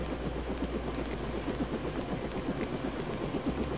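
A helicopter in the Deus Ex video game, set in Paris, gives a steady low rotor and engine drone with rhythmic blade chop, held at an even level throughout with no talking.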